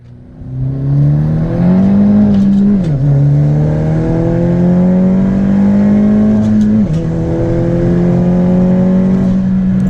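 Loud in-cabin engine note of a big-turbo Honda Civic FK7 hatchback under hard acceleration, revs rising through two upshifts with brief dips, the drone strong and continuous throughout.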